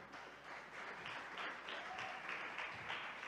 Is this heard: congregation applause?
yes